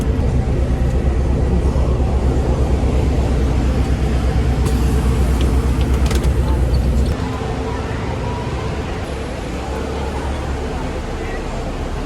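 Free shuttle bus ride to the Jewel at Changi Airport in Singapore: a steady, loud interior engine and road rumble that drops to a quieter hum partway through, with faint crowd babble in the background.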